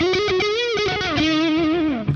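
A distorted electric guitar through a Kemper Profiler with Diezel amp profiles plays a sustained, vibrato-laden lead phrase with a warm, rounded neck-pickup tone, loud and close.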